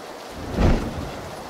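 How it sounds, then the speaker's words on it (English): Rain and a thunder rumble in the PUBG zombie mode game, a steady wash of rain with a low rolling thunder swell peaking in the middle, fairly loud and continuous. "So hard to see with this rain."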